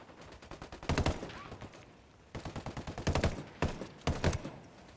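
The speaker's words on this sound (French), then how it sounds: "Forcément que je te tire dessus." Rapid bursts of automatic gunfire from the video game Ghost Recon Wildlands rattle off in several clustered volleys, loud and close, separated by brief pauses.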